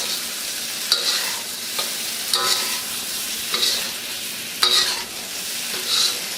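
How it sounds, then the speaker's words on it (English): Scallops sizzle as they are stir-fried in a wok, a constant frying hiss broken by about five sharp scraping clanks of the utensil against the metal, with no talk. "And just the last few minutes, throw in the scallops."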